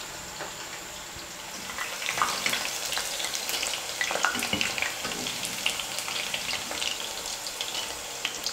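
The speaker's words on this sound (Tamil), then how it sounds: "இதே மாதிரி இருக்கிற எல்லா சிக்கனையும் எண்ணெயில் போட்டு பொரிச்சு எடுத்துக்கலாம்." Chicken pakoda pieces with onion deep-frying in hot oil, a dense, steady crackling sizzle close up, with occasional louder pops and bubbling throughout, no voices.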